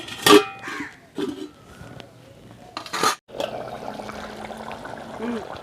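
Water goes into a pot of wedding-style chicken kosha curry, a few clanks and a short voice first, then a steady close splashing trickle over the simmering meat.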